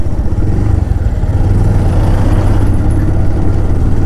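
Steady low engine rumble from a motorcycle cruising through the Jharkhand jungle countryside in the morning, heard up close and unbroken for the whole stretch, with no voices.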